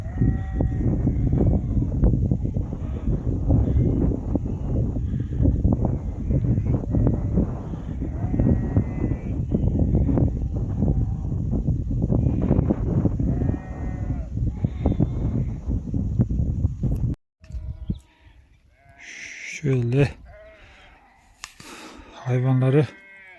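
A large flock of sheep bleats continuously at close range on open grazing land, many overlapping calls forming a thick chorus for most of the time before thinning out to a few scattered bleats near the end.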